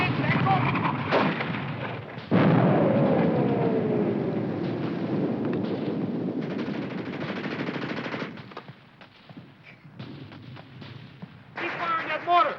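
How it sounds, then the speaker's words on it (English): Heavy weapons fire in a war-film battle scene, with a mortar firing amid dense machine-gun and artillery bursts, loud and continuous, then thinning into scattered shots; shouting voices are heard over the combat. "Keep firing that mortar!"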